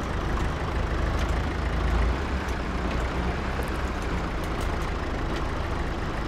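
A truck engine in Farming Simulator 22 rumbles steadily and loudly, a constant low drone with faint clanks on top and no talk.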